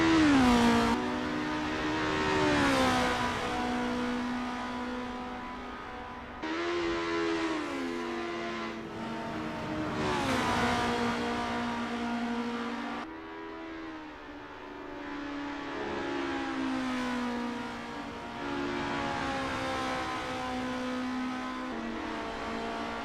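Racing-game cars, including Renault 99, lap Zandvoort on a practice out lap, engines whining and revving through gear changes in long rising and falling sweeps, loud and continuous with brief drops between shifts.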